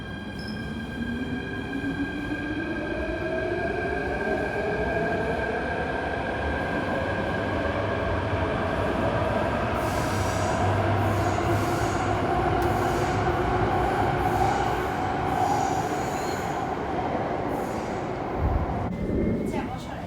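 A metro train rumbles along the platform at Tung Chung Station, Hong Kong, wheels droning and squealing in rising and falling tones, with voices talking faintly underneath.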